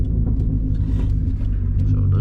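A Hyundai Coupe Tiburon drives along with a loud, continuous low exhaust rumble heard from inside the cabin, rough and pulsing, with a voice talking over the drone.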